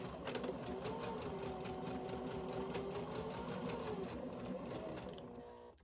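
Sewing machine back-stitching the end of a seam on a hobo tote bag, a fast even chatter of the needle close up that runs steadily and then tapers off near the end.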